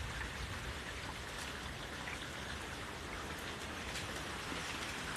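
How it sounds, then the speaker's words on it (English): Steady rain falls during a storm, a dense, even hiss of drops spattering on surfaces that continues unbroken and fairly close throughout, with no voices. "And I love the sound of rain."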